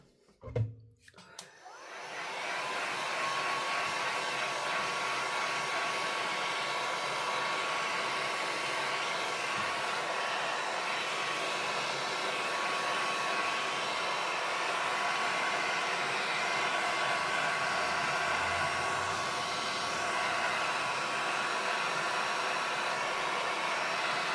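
Heat tool or dryer blowing on wet paint on a cardmaking masterboard, switching on after a brief clunk and then roaring as a steady, loud, close whoosh for over twenty seconds.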